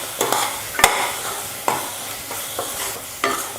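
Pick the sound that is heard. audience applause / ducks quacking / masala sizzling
masala sizzling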